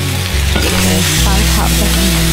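Pork ribs and green beans stir-fried in a wok with rock sugar, star anise, cinnamon bark, cooking wine and soy sauce give a steady sizzle with scraping stirs, over background music.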